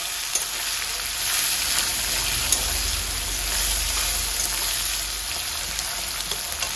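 Chopped onions and chicken frying in oil in a kadai, a steady close sizzle with occasional stirring bursts, loud and continuous with no talk over it.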